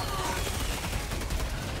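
Rapid bursts of gunfire from the co-op shooter Helldivers 2 crackle in a dense, continuous volley, loud and close, with a voice faintly underneath.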